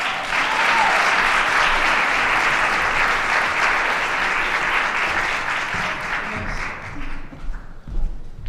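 A crowd applauds grant winners at a Community Development Grant announcement event, loud continuous clapping that thins and fades toward the end, leaving a few scattered claps and thumps.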